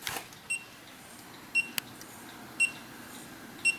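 A CasaConnect Caleo device emits short high-pitched beeps, four spaced out at uneven intervals, with a single sharp click in between, over quiet background hiss.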